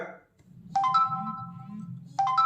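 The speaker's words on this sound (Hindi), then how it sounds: "तो व्हाट्सएप मैसेज भी आ चुका है लेकिन डिस्प्ले इसका ऑन होता नहीं है। हालांकि वाइब्रेशन और साउंड प्ले होता है।" A Realme Watch 3 Pro plays its WhatsApp message notification, two short bright electronic chimes a moment apart over a low vibration buzz.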